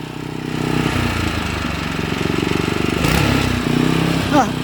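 A small motor hoe tiller engine chugs steadily close by with a rapid regular pulse, its throttle rising briefly, while people talk over it.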